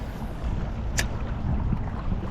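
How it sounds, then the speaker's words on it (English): Steady wind buffeting the microphone on a riverbank while bank fishing for bass, a broad rushing roar close and fairly loud throughout, with one brief high hiss near the middle. "And we got the wind coming at us, which is a good thing."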